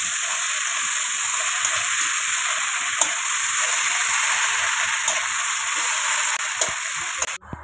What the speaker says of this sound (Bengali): আদা দিয়ে ভালো করে কষে নিতে হবে মশলাটা।